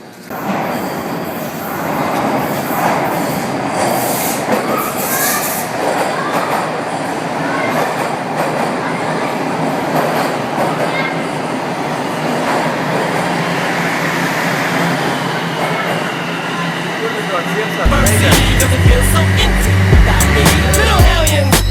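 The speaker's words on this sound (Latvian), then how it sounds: "Tāpēc mēs tev parādīsim, kā izstās jaunais metro." A new Toronto subway train runs along the track, with loud continuous rumbling, squealing wheels and clickety-clack rhythm building over about twenty seconds. Louder rhythmic noise cuts in near the end.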